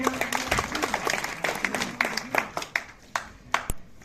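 Audience clapping at a public ceremony unveiling statues of Swami Vivekananda and freedom fighters in Shahnagar, Panna, a dense burst of applause with sharp individual claps throughout, fairly close, steady for several seconds.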